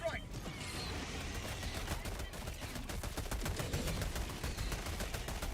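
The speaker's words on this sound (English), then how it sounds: "Orbital air burst." An orbital air burst strike lands in the video game Helldivers, a dense rapid string of crackling explosive pops that rattles on continuously at a loud, steady level, with a voice faintly present underneath.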